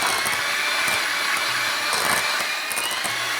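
Electric hand mixer whirring steadily as it blends keto tiramisu ingredients, a constant bright motor whine with slight changes in pitch as the beaters move through the mixture.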